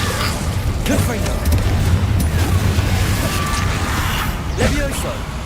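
An explosive Confringo spell cast in Hogwarts Legacy, a dull booming blast that rumbles under steady game noise, with a voice speaking over it.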